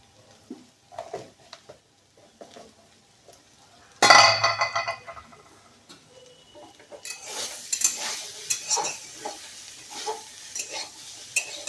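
A quiet pan with light scraping, then a sharp metallic clink and a burst of sizzling as kochur loti (taro stolons) fry with chili powder. Frying crackles return with stirring scrapes in the second half.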